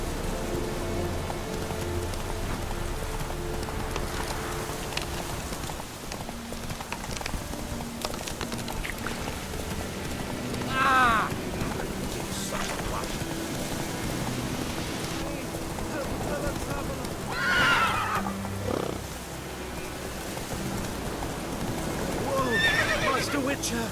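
Roach the horse running in The Witcher 3 game, continuous hoofbeats with three distinct loud neighs spaced through the ride, amid rain-like ambience and spoken dialogue.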